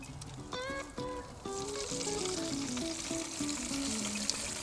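Rib grease and sauce dripping onto the fire of a Weber Smokey Mountain smoker, a continuous hiss and crackle of sizzling under a melodic music bed.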